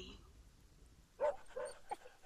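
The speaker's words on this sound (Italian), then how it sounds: "Il cane non ci riconosce." A dog in The Pillars of the Earth gives a few short, soft barks and yips, spaced apart, fairly quiet and close, with speech also present.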